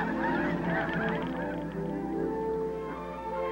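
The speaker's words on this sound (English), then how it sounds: "Blue and snow geese are two color phases of one species." A flock of blue and snow geese honks continuously, many overlapping calls blending into a loud, steady chorus with no pauses.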